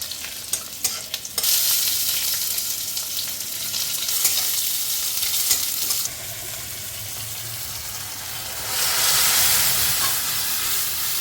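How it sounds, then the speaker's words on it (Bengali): Spices for masoor dal hit hot oil in a loud burst of sizzling that surges and settles in waves, with stirring scrapes and steamy hiss, close and continuous with no talk. "এখন হবে মসুরির ডাল ফোড়ন।"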